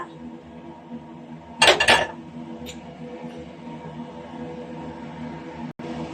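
Metal utensils clatter against pots in a short burst as food is transferred into a clay pot, then a quiet kitchen hum continues with a faint scrape near the end.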